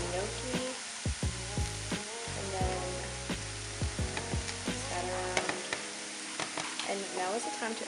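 Gnocchi with frozen vegetables fry in a pan, with a loud constant sizzle broken by repeated scraping stirs and utensil knocks, and a voice speaking over part of it.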